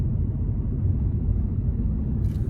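Ford Mustang GT Premium 5.0 V8, 2024, heard from inside the cabin with the exhaust in sport mode while driving: a steady, deep low rumble that stays even and fills the whole stretch, with no voices.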